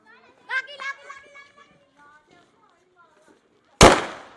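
A Diwali firecracker bomb bursts with a single sharp, loud bang near the end, after children chatter and call out excitedly.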